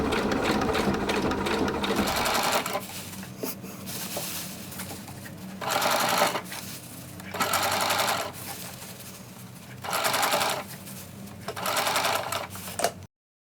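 A sewing machine stitches ultralight tent fabric in several loud, close runs of rapid whirring, separated by quieter pauses before cutting off abruptly.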